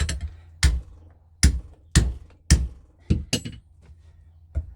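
A hammer strikes bezel wire on a jewelry bench, landing about seven sharp, close metallic taps at an uneven pace of roughly one every half second, with quiet gaps between blows.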